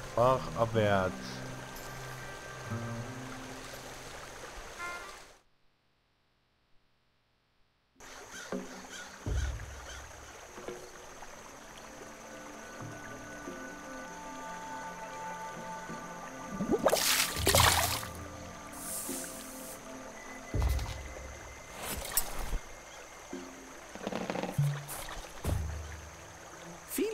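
Stream water gently flows and trickles as a leaf boat drifts downstream in the video game The Night of the Rabbit, a soft steady wash with a short silent gap and a few louder splashy bursts later.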